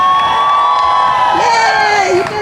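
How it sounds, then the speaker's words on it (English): A crowd cheers loudly at an LGBTQ youth safety event, with sustained whoops and high shouting voices filling the whole stretch at close, steady intensity. "Let's hear a cheer."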